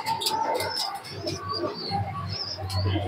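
A high-flying pigeon coos softly and repeatedly as it is let go, with other pigeons' murmuring calls close by and a steady low hum underneath.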